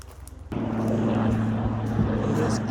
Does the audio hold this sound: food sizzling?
no